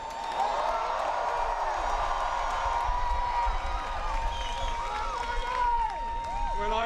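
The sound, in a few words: large rally crowd cheering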